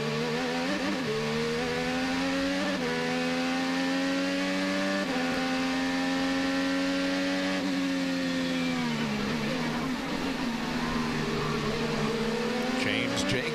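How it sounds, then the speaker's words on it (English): IndyCar race car engine heard onboard, holding a steady high drone before the pitch sags as the driver lifts off the throttle, then picks back up; loud and continuous throughout. "You can hear him lift off early."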